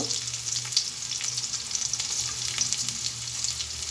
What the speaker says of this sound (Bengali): দিয়ে দিয়েছি কিছু রসুন কুচি পেঁয়াজ কুচি দিয়ে এগুলো সুন্দর করে ভাজি করে নেব